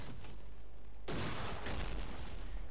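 Sudden burst of dense rapid gunfire in the video game GTA V, loud and crackling after a second of quieter background noise, continuing as a sustained rattling volley.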